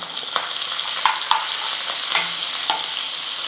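Spices and grated ginger fry in a hot pan for pongal, giving a steady, close sizzle broken by light stirring clicks and scrapes, with no talking.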